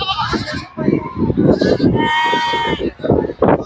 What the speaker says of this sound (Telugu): చిన్న చిన్న మేకలు కూడా ఉన్నాయి కనిపిస్తున్నాయి